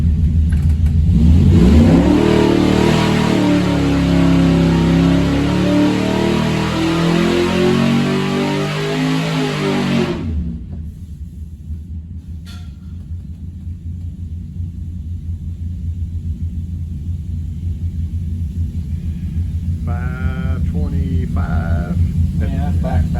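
Big Block 400 engine fitted with a Holley Street Dominator intake, roaring loud under test for about ten seconds with a sweeping rev, then dropping to a steady rumbling idle that holds to the end.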